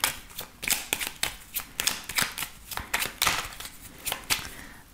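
Lenormand cards being shuffled by hand ahead of a nine-card draw, a steady run of crisp, close riffling bursts and soft slaps repeating throughout with no voices.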